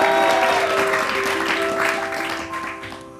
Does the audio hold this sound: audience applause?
yes